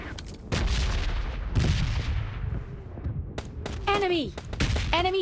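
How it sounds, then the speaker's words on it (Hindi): Gunfire from the hills in PUBG Mobile Lite crackles in loud, repeated bursts and sharp shots, with booming reports and game effects layered over it and a voice talking in places. "मुझे फिर से वही पहाड़ों से फायरिंग के साउंड आने लगते हैं।"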